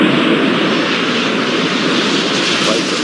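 An airplane takes off in the video game Airport Madness 4, giving a loud continuous engine roar that holds steady throughout.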